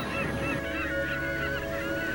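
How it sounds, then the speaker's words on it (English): Northern fulmars crowd the nooks of jagged sea cliffs on St Kilda, a dense chorus of harsh cackling and honking calls overlapping continuously at moderate distance with steady wind and sea noise beneath. "Nesting fulmars are tucked into every nook and cranny on the jagged cliffs"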